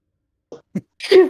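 A single close sneeze preceded by two short sharp intakes of breath, loud and abrupt at the end.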